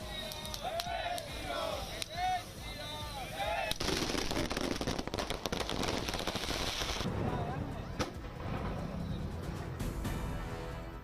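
Fireworks for the Hindu New Year at Atal Path in Bhopal crackle and pop in rapid volleys, with whistling rockets early on and a dense burst of crackling that fades into scattered bangs amid crowd noise.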